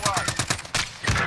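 Rapid gunfire in Warzone, a video game, comes as a quick burst of about six sharp, evenly spaced shots followed by a couple of heavier reports, close and loud, all within barely more than a second.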